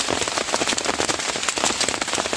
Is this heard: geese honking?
no